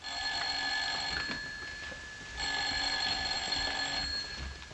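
An old-fashioned telephone bell rings in two long, loud bursts with a pause between them, heard alone without any voices.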